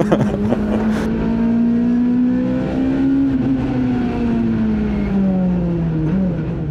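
Rallycross car engine revving hard and continuously from close range, its pitch climbing and falling steadily as the car accelerates and shifts, loud throughout with no talk.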